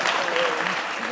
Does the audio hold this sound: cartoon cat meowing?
no